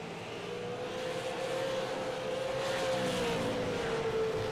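Race cars lapping North Wilkesboro in iRacing, a steady loud engine drone holding a sustained pitch that rises and falls slightly as cars run the track, with no talk.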